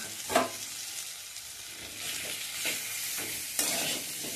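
A ground poppy seed paste (posto bata), hand-ground on a grinding stone, is stirred in a frying pan for a Bengali sajna and potato dish, giving a soft steady sizzle with a few scraping strokes, close and moderately quiet, with no voices.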